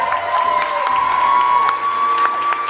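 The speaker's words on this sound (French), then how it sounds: "je vous demande de faire un tonnerre d'applaudissements pour Yari et Anna" Convention audience applauding and cheering for panel guests at a fan event, a crowded mix of clapping, whoops and shouts with a few sharper close claps, lively and fairly loud.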